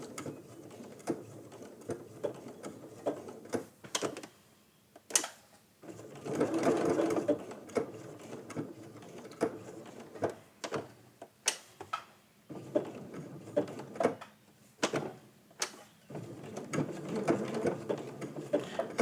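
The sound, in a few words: sewing machine stitching raw edge applique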